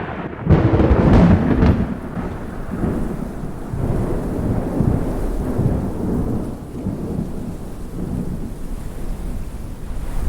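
Heavy rain in a winter storm pours steadily and loudly, opening with a deep rumble of thunder before settling into a dense, continuous wash of rainfall.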